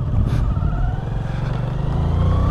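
A Hero Splendor Plus 100cc motorcycle on a winter Ladakh ride clicks into first gear and pulls away, its small single-cylinder engine thrumming loud and close with a steady low putter that rises slightly as it moves off.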